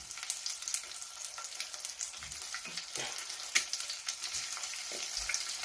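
Eggs coated in turmeric and chili powder shallow-fry in a hot pan, a soft, fairly quiet crackling sizzle with faint scattered pops and light spatula touches, no speech.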